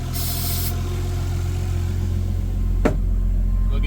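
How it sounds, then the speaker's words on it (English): A Nissan 240SX being prepared for drifting idles with a steady low engine hum whose idle rises slightly, with a brief sharp click near the end. "Oh, you hear how it idled up?"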